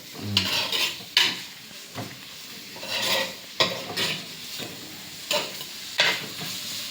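Chicken curry ingredients sautéed in a pan, with a spoon stirring and scraping in repeated bursts over a steady sizzle, metal clinks on each stroke, close and fairly loud.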